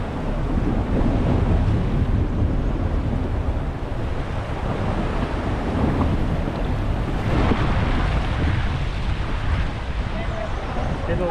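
Safari vehicle fording a river in Corbett, with continuous rushing water and splashing under engine rumble and wind buffeting, steady and close throughout.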